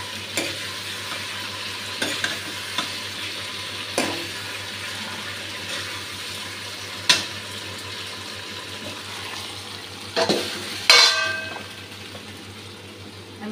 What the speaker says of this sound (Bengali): দেখুন ভালোভাবে মশলাটা ভাজা হয়ে গেছে